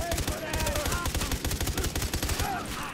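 Gunshots in Far Cry 3, a steady rapid string of close, loud shots in regular rhythm running for about three seconds, with some speech underneath.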